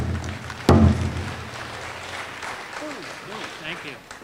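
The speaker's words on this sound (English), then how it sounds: "If you would please, a nice round of applause." A graduation ceremony crowd applauds outdoors after a thump, a broad wash of clapping that fades as a speaker starts talking over it.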